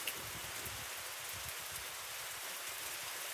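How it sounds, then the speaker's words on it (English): A rainstorm in northern West Virginia patters steadily on surfaces with a cool breeze, a soft, even wash of drops heard faintly from a distance, with no one talking. "So I just want to make a quick vlog video of this wonderful rainstorm."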